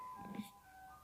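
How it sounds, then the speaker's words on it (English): Ice cream truck jingle playing outside, a faint steady melodic tone drifting in from a distance, quiet and thin against a soft background, with a brief knock near the end. "the ice cream truck's outside"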